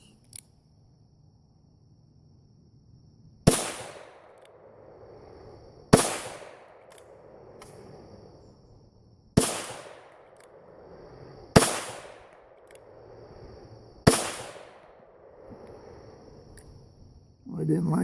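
Five evenly spaced, loud pistol shots from a 38 Special loaded with 2.9 grains of clayDot shotshell powder behind a 161 grain Lee round flat nose bullet, each crack decaying in an outdoor range.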